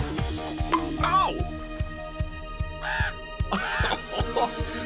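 A raven caws in an animated wildlife cartoon, a few harsh calls rising over steady rhythmic background music and sound effects.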